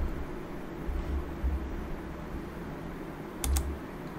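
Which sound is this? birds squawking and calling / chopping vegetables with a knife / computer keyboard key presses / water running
computer keyboard key presses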